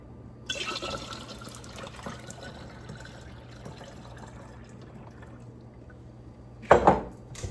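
Pineapple juice pours into a measuring cup in a soft, steady liquid stream, quiet and close, followed by a brief louder splash near the end.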